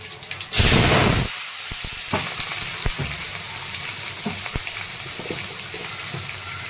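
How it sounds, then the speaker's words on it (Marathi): Curry leaves, garlic, turmeric and pieces of ivy gourd fry in hot oil with mustard seeds and cumin, opening with a loud burst of sizzling that settles into a steady crackle and hiss, with faint stirring clatter and no talk. "कढीपत्ता लसूण टाकलेला आहे हळद आणि ह्या फोडी टाकत आहेत"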